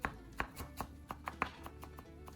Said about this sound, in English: Next, prepare a little chopped parsley,